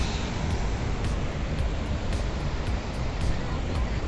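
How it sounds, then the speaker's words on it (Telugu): Waves flowing at a free outdoor water spot in Karimnagar, a steady, close, broadband wash of moving water with wind noise on the microphone, continuous and fairly loud throughout. "అలలు పారుతున్నాయి వాటర్"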